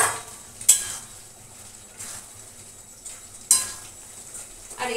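Fried eggs being stirred into a potato curry, a soft steady sizzle broken by a few sharp clinks of a spoon against the pan, close and without talk.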